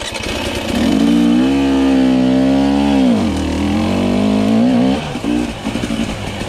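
A Husqvarna TE300i enduro motorcycle engine under way, loud and close, climbing in pitch, dropping sharply as the rider shifts, then holding a lower drone with a few uneven blips at the end.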